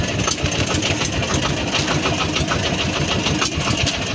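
A small fishing boat's engine running nearby, a loud, steady mechanical chugging drone with a rapid regular pulse throughout, no voices over it.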